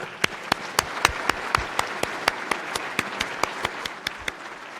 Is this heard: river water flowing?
no